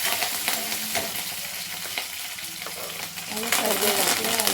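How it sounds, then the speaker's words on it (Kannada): Green chillies frying in oil in a pan, a strong, steady crackling sizzle with spatula scrapes, swelling louder toward the end, with a voice faintly present underneath. "ಹಸಿ ಮೆಣಸಿನ್ಕಾಯಿ ಸ್ವಲ್ಪ ಫ್ರೈ ಮಾಡಬೇಕಾಗ್ತದೆ"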